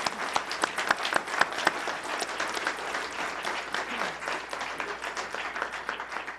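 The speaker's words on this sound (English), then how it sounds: "Please give these Republican candidates for U.S. Representative a round of applause." An audience at a Republican candidate forum for governor and U.S. Representative claps steadily. The applause is a dense, sustained patter that holds throughout, with no voices over it.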